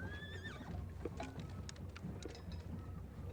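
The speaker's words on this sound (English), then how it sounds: "The background songs, the clattering of the horses" Horses in a War of the Austrian Succession strategy game, with whinnies and a clatter of hooves over a low ambient bed, faint and steady with scattered sharp clicks.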